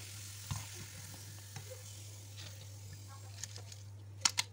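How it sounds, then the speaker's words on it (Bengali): Fuchka puris frying in hot oil give a faint, steady sizzle with a low hum beneath and a few small pops and crackles toward the end. "আমি এভাবে সবগুলো ফুচকা ভেজে নিচ্ছি।"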